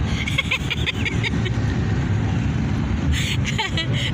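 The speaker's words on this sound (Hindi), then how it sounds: "यहाँ पे भी ट्रैफिक काफ़ी है" Busy street traffic rumbles steadily with engine drone and passing vehicles, while a person talks over it throughout and a horn-like tone briefly cuts through near the end.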